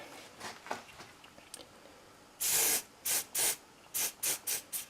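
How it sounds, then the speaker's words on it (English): Short hissing bursts of a silicone spray from an aerosol can, a few faint puffs followed by several louder sprays in quick succession, close by, applied around an O-ring. "I've got some silicone wheel spray."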